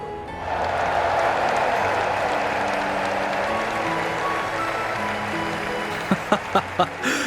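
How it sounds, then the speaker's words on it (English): A large crowd in the video game Trails in the Sky applauds tournament victors steadily throughout, a dense wash of clapping under a low musical drone, with a few sharp thuds near the end. "let us shower these victors with thunderous applause"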